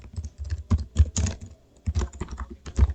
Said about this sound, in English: I'm going to type in the full name manually